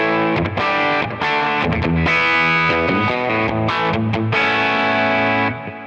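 Distorted electric guitar through a Quad Cortex Two-Rock amp model with an impulse response plays a riff of chords and single notes with a chorused tone, loud and continuous before fading at the end.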